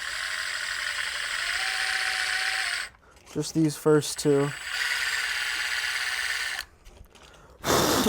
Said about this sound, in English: I'm just gonna drill out